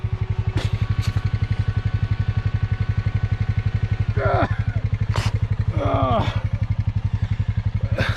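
Honda Rubicon 520 four-wheeler idling with a steady low pulsing throb while stuck in mud outdoors, close and continuous, with a few brief rustles and clattering knocks over it and a voice making short sounds.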